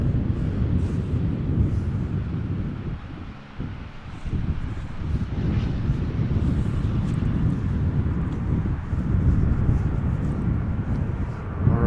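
Low, rumbling jet noise from an EasyJet A319 arriving at Amsterdam Schiphol, swelling and holding steadily with wind buffeting the microphone, loud and continuous with no voices.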